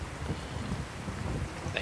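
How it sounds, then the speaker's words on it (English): Rain and thunder ambience from a video game set in Diamond City: a steady, soft hiss of rainfall over a low rumbling undertone, faint and continuous, with no voices. "It's raining."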